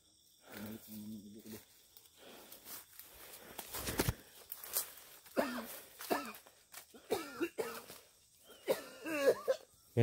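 A person coughs repeatedly outdoors after being caught in the rain, with bursts of harsh coughing scattered through the stretch among rustling movement, footsteps and faint insect sounds, plus some brief voices.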